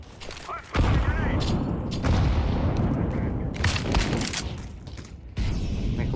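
Rapid gunfire from Counter-Strike 2 on the Anubis map in a Premier match, with sharp broadband bursts and dense volleys filling most of the stretch, briefly dropping away near the start and again before the end.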